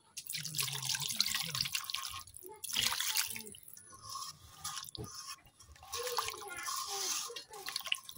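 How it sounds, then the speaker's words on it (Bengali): Water is poured into a pot of tengra fish curry with tomato and spices, a splashy, gurgling pour in uneven bursts with short pauses. "এখন দিয়ে দিতেছি পানি।"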